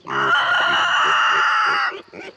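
Chickens on a spring homestead, hens and a rooster, cluck and crow loudly and continuously at close range, with a long sustained crow filling most of the moment before it breaks off into quieter scattered clucks.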